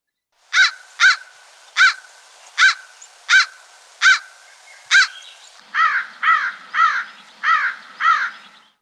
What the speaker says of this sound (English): But again, with crows, pretty high pitched.